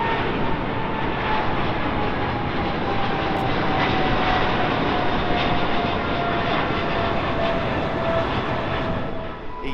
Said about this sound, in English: 777-300 on its way to Cairo.